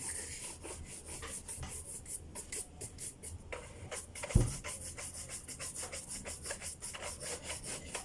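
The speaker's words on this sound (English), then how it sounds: "And some more polishing on the back." A shoe polished by hand, steady rhythmic rubbing strokes on the leather with one louder knock midway, close and quiet with no talking.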